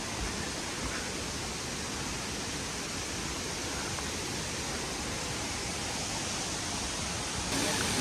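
Mountain waterfall near Rosa Khutor in Sochi, a dense continuous rushing roar that stays loud and even throughout.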